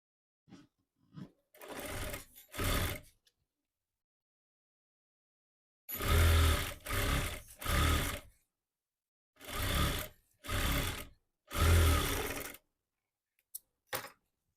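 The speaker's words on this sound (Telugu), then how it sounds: "దీన్ని డబల్ ఫోల్డింగ్ ఇలా ఫోల్డింగ్ చేసి ఇక్కడ ఒక గట్టి కుట్టేయండి" An electric sewing machine stitching Punjabi-style pants, running in separate short bursts of fast rattling stitches with silent pauses between them, close and clear.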